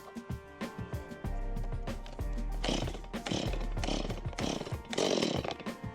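A Stihl MS170 petrol chainsaw is pulled and fires up: several short cranking bursts, then the engine catches and runs loud and close, its revs rising and falling.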